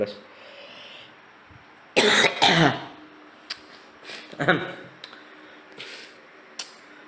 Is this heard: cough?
yes